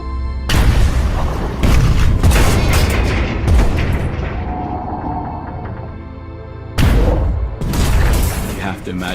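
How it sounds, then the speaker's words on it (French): Depth charges burst around a diving submarine in heavy, booming blasts with long reverberant tails and a mechanical rattle. Two big explosions open the stretch, the rumble fades in the middle, then another loud blast hits near the end. "l'équipage n'a plus qu'à attendre l'explosion des premières grenades ennemies."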